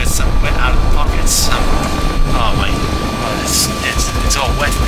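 A Russian helicopter in a video game gives a loud, continuous rotor and engine roar with a rough, rumbling texture, while someone talks over it throughout.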